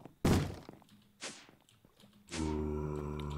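Three heavy thuds of banging on a wall in the game Minecraft, loud and close, spaced about a second apart, the last one ringing on with a sustained tonal hum.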